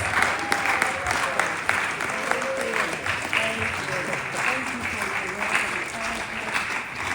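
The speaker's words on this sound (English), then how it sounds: "Let's give our panelists another warm round of applause." An audience claps for a panel of speakers at a human rights event, a steady, warm round of applause from a full room that continues throughout, with a voice talking over it.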